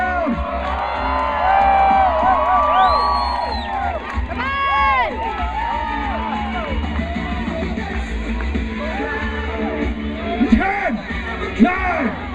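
A crowd at a slugburger eating championship yells and cheers steadily, with whoops and shouts rising over an announcer talking on a loudspeaker.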